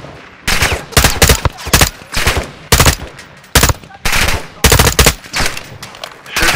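Rapid bursts of automatic gunfire from the Modern Warfare 2 video game campaign, loud and close, firing in repeated clusters with brief gaps between volleys.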